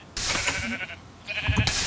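Two loud, close bleats from a Minecraft sheep being burned by lava, separated by a short gap, with game effects underneath.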